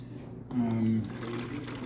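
Coquito, a creamy coconut and rum holiday drink, is poured into a Simply Orange bottle in a short, steady liquid gush lasting about half a second, set against faint background voices.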